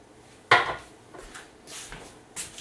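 A metal pan is handled in a home kitchen while cooking shrimp and pork fajitas: one sharp clanking knock, followed by a few softer scrapes and taps, close and fairly quiet.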